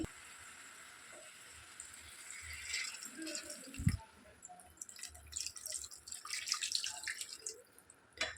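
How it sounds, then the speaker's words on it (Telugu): Water poured into a pan of mixed potato and brinjal curry, a light trickling and dripping splash that builds in bursts over several seconds, fairly faint, with a brief thump partway through. "ఇప్పుడు ఇందులో వాటర్ యాడ్ చేసుకోవాలి"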